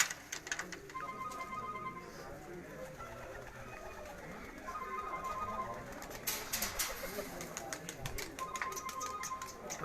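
Pigeons on a rooftop coo softly and repeatedly in low, rolling calls at a moderate distance, with faint voices and background clatter around them.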